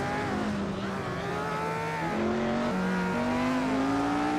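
Engines of 1965 Formula One race cars, including a Ferrari, in Assetto Corsa: a loud, steady high-pitched roar that climbs and drops through gear changes as cars race close together.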